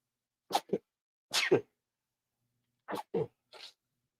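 A person sneezes repeatedly: three pairs of sharp nasal bursts separated by short pauses, close and clear, with a small trailing exhale after the last.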